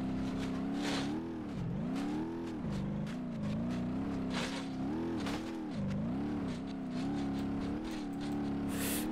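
A bugged truck in the BeamNG.drive driving game revs hard while accelerating downhill, a loud, continuous engine drone whose pitch rises and dips repeatedly as it strains.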